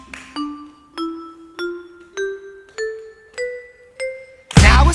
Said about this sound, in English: Xylophone, let me hear you one time.